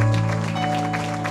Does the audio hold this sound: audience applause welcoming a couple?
yes